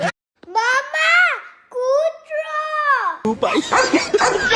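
A person imitates a dog with drawn-out, whining bark and howl sounds, close and loud, in a Gujarati comedy sketch, followed by a burst of noisy talk.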